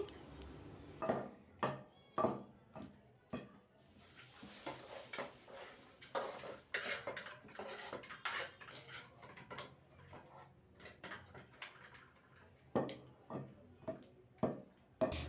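Gongura leaves and chilies are pounded in a mortar, giving a run of sharp, close, irregular thuds and knocks, faster in bursts and then spaced out.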